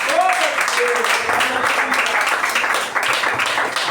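Church congregation clapping together during a worship service, a loud, continuous wash of many hands, with voices talking over it throughout.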